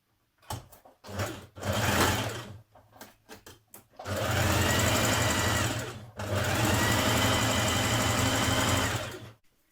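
A sewing machine stitches the side seams of Simplicity 8424 leggings in short bursts at first, then in two long, steady runs of fast mechanical whirring, close and loud, with no speech.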